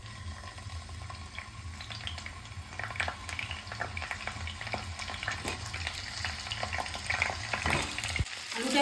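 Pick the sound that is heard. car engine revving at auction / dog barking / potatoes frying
potatoes frying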